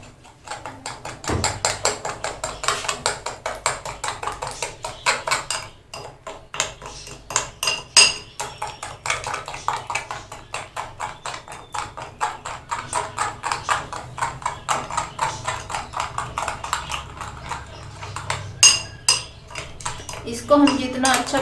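Icing sugar mixture beaten hard in a bowl for a tutti frutti cake, a loud, steady run of rapid clattering strokes of a utensil against the bowl, continuing throughout with a few heavier knocks.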